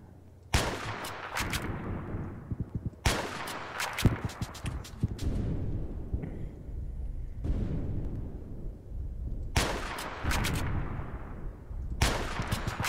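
Loud bursts of gunfire from the Roblox game Oof Brigade, with several heavy volleys of rapid shots separated by short pauses and rumbling echoes trailing after each burst.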